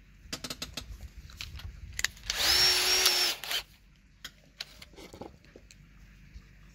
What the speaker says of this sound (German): Das bohren wir jetzt noch mal ganz zart auf.